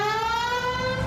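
A police siren wails in the video game L.A. Noire, a steady rising-and-holding tone with strong harmonics sounding loud and continuous, with faint low engine rumble beneath.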